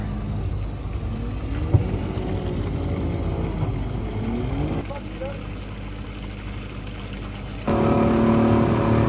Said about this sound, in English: That was our fast boat.